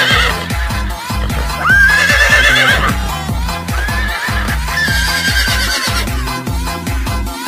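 A horse whinnies twice, with long, rising and falling neighs, over loud rhythmic background music that plays throughout.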